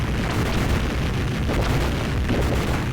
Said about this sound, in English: his little space station goes kaboom